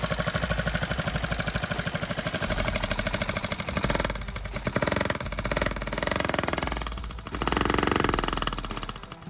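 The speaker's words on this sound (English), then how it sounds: "the engine ran and idled really well, but I have a bad noise inside the engine" A Honda SL90 motorcycle engine idling, a steady, rapid low putter with a knocking internal noise, close and fairly even, dipping briefly midway before settling back into its rhythm.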